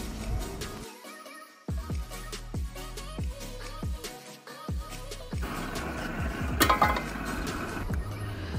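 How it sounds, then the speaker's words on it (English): Irish potatoes fry in a pot, with a steady sizzle running under repeated scraping and stirring knocks from a utensil against the pot, heard close up. "I had to fry about 3 batches of potato."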